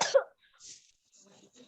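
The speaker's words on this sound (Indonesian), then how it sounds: "Batuk." A single short cough, fairly close and moderately loud, during a school visit at an elementary school, followed by faint quiet murmurs.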